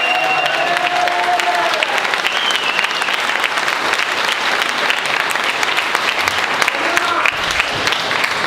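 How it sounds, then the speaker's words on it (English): A boxing press conference audience claps steadily in a dense, sustained round of applause with some crowd murmur, filling the room before fading slightly toward the end. "Round of applause for Sean Masha Dodd."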